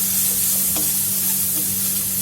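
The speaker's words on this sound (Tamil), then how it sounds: "இது லைட்டாக கிளறி விட்டுட்டு" Vegetables for egg fried rice sizzling and frying in a pan while being lightly stirred, a loud steady hiss with a low constant hum and faint scraping strokes, no talking.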